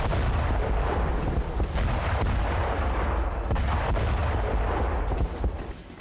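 Heavy artillery fire and explosions from a Ukrainian drone attack on a Russian military headquarters roar on continuously, a dense rumbling barrage of booms with sharp cracks, loud and sustained, fading slightly at the end.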